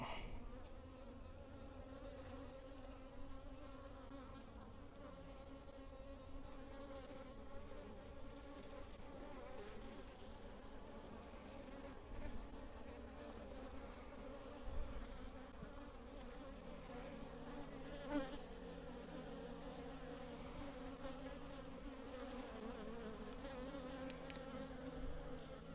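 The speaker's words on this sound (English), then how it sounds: "Bees look to be good shape." Bees in a bee yard hum continuously in a low, even drone, faint and steady, with no voices over it.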